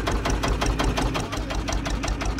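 An old-fashioned boat engine chugging at a steady idle with a fast, regular knocking thump, loud and close, with no voices over it.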